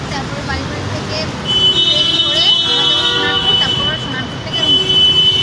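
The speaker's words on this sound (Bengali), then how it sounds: "চারিদিকে শুধু গাড়ির হর্নের জন্য আমাদের কথাগুলো শোনা যাচ্ছে না শুধু গাড়ি আর গাড়ি চলছে" Car horns toot repeatedly in busy Kolkata street traffic near a bus stand, with a steady roar of passing vehicles and people's voices partly drowned beneath the honking.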